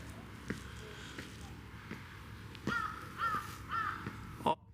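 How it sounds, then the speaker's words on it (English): Crows caw repeatedly in a quiet residential neighborhood of murals in Yeosu, South Korea, the harsh calls coming in a cluster near the end over faint background hum. "That crow song, thank you for delighting our ears."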